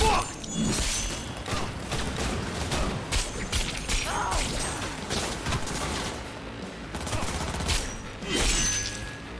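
Turret gunfire in the Cyberpunk 2077 video game, a dense run of bursts and impacts with crashes and whooshes over a busy game soundscape.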